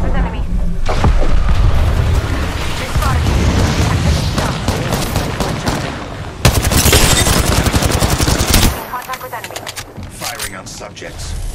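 Dense automatic gunfire and booming shots pour out nonstop in a ranked Apex Legends match, loud and close, with a brief lull near the end and voices in the mix.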